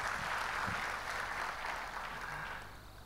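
Congregation applauding in an Indonesian church service during a sermon, a steady wash of clapping filling the room for about three seconds before easing slightly at the end.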